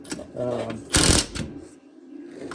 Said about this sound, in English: Yes, I am using a Milwaukee Impact. I have it set in the middle setting so I don't over tighten them.